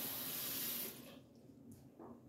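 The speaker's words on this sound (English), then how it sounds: "So I gotta put a cup of water" Water runs steadily from a tap for about a second, then thins to a quieter trickle and splashes as it fills a cooking pot.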